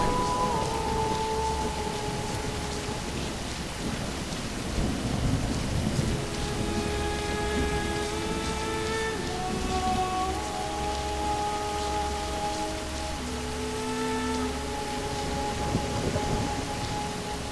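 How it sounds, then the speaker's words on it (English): Steady rain with rumbling thunder beneath in the video game Witchblood, layered with sustained synthetic tones and a low droning hum, no voices. "It's raining."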